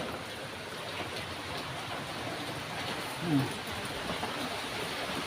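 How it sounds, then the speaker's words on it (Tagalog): Steady rain pours outside during a tropical storm, a dense continuous hiss of falling water heard from indoors at moderate distance, with a brief faint bump midway and no clear talk. "Mga ulan pa po dito sa amin."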